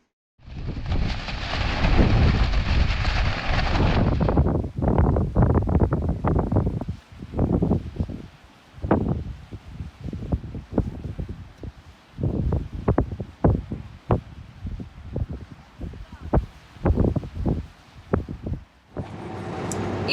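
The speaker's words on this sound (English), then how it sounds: "Really bad wind." Strong, gusty wind buffets the microphone in a sustained roar at first, then breaks into repeated hard gusts and rumbling bursts through to the end, with no talk.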